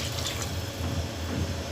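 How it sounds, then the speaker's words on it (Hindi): A glass of water pours into a pressure cooker of pumpkin over a raised flame, a short, steady splashing gush heard up close. "और इसमें मैं डाल दूँगी 1 गिलास पानी।"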